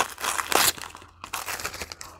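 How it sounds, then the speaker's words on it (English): A squishy packaged item crinkles in plastic wrapping, close and crisp bursts of crackling rustle repeating over a couple of seconds. "Crinkling."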